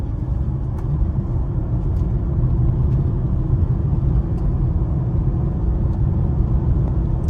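Engine of a 2018 Porsche Macan GTS rumbles loudly and continuously from close by, a dense, even low drone with no pauses.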